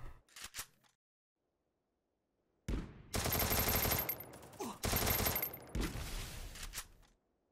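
A couple of quick shots, a pause of silence, then long sustained bursts of rapid gunfire in Free Fire, loud and crackling.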